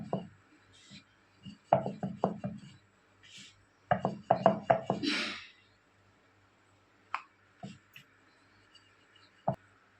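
Hands pat and press moong dal mathri dough on a surface, producing soft, close thumps in irregular clusters separated by quiet gaps.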